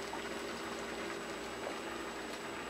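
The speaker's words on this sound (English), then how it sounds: "I'm going to leave this to simmer so that all the stuff get cooked" Jamaican chicken soup simmers in a pot, giving a quiet, steady bubbling under a faint electrical hum, low and continuous with no voices.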